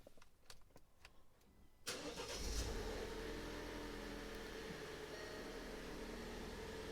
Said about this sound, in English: you can just start the vehicle as normal.